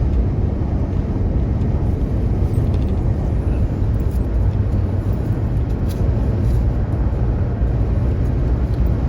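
Steady road rumble inside a car cruising along Highway 101 in light traffic, a continuous low drone of tires and engine with no breaks, close and even in level throughout.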